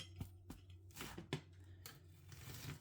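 A knife cuts through a crispy puff pastry festive bake from Aldi, giving a few faint, sharp crunches and crackles at irregular intervals, close and quiet.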